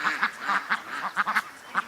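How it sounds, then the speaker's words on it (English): Ducks quack in a busy series of short, nasal calls, several overlapping bursts close by, with no talking. "Oh man, ducks."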